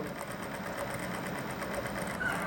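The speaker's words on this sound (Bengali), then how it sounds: "আস্তে আস্তে মেশিন চালাবে।" A sewing machine runs slowly while stitching a round petticoat, a steady, rapid mechanical chatter that stays close and even throughout, with no talking over it.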